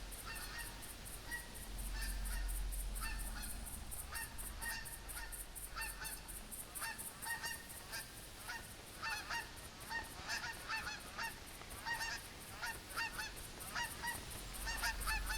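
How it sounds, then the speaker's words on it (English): Flock of geese honking overhead in a hunting game set in Hirschfelden, many repeated honks in a continuous chorus, fairly faint and distant over a low rumble. "I think the sounds I'm hearing are just the geese flock overhead"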